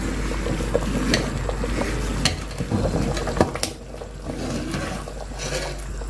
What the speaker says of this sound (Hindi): अब हम इसके अंदर चम्मच चलाते रहेंगे ताकि आटा नीचे से जल ना जाए